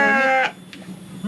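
A sheep in a pen gives one close, loud, wavering bleat that ends about halfway through, followed by quieter rustling and pen noise.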